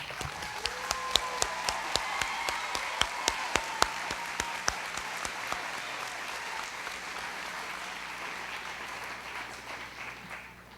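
Round of applause at an adult education commencement ceremony, a hall full of people clapping steadily with sharp individual claps near the start, gradually thinning and fading toward the end.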